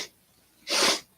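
A single breathy sniffle or snort from one person, close and fairly loud, about half a second long after a quiet pause, with no talking.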